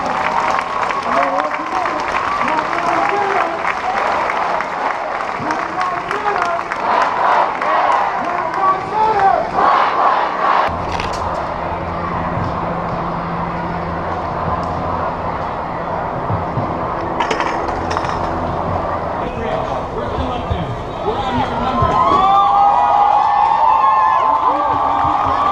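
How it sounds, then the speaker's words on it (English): A large outdoor crowd at a prayer gathering claps and cheers loudly, with shouts rising over sustained applause that continues for most of the stretch before swelling again near the end. "Give the Lord a round of applause."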